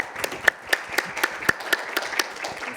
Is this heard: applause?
yes